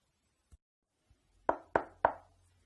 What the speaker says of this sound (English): she walked up to the door and knocked